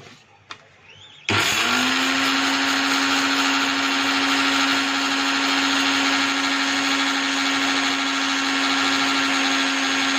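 Electric mixer grinder whirring loudly as it grinds roasted parboiled rice flour for laddoos, a steady high-pitched motor drone starting abruptly after a few quiet knocks and running nonstop to the end.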